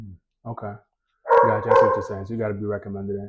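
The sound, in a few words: puppy dog barking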